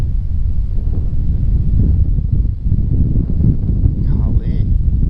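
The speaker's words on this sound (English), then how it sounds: "The wind is whipping." Strong outdoor wind buffets the microphone beside a small creek during kayak bass fishing, a loud continuous low roar that gusts and dips throughout.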